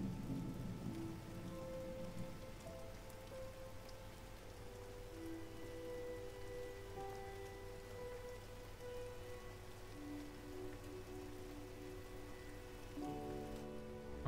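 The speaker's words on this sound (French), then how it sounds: "en plus il pleut." Steady rain falls throughout a rainy scene in the video game Silent Hill 2, a dense continuous hiss with low rumbling ambience and sustained tonal music layered above it.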